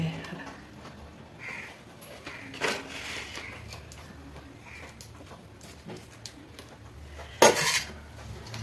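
Pots and metal utensils clank and clatter while cooked rice is drained, sparse knocks and a sharp clang near the end over a quiet kitchen background, with faint voices at times.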